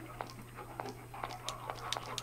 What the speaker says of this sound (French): Un chien.